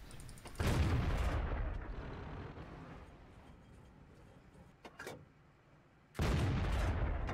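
Tank gun shots in World of Tanks, TOG II* on an Arctic map: two loud booming cannon blasts with rumbling decay, separated by several seconds of quieter ambient rumble and a faint mechanical click.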